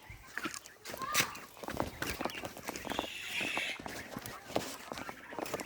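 Quail birds shuffle and chirp inside a farm cage, a busy mix of small scratchy footfalls, wing flutters and soft bird calls that rise in bursts, with some handling noise close by.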